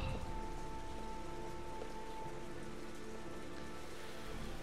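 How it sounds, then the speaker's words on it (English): Heavy, constant rain pours down in the video game Heavy Rain, a dense steady hiss of downpour on surfaces that stays loud and unbroken throughout, with no voices. "the heavy rain is pouring down constantly"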